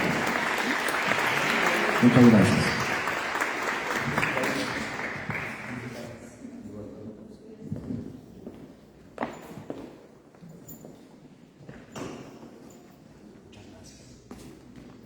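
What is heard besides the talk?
audience applause for panelists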